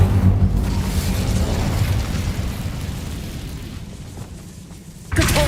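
Incendio fire spell cast in the Hogwarts Legacy game, a loud, sustained roaring whoosh of flame that slowly fades over several seconds before a fresh burst cuts in at the end, with no speech.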